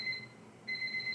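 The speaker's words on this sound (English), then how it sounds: "You can probably hear the timer going off in the background." A kitchen timer goes off in the background, two bursts of a high, thin electronic beeping separated by a short gap, faint and distant in a quiet room.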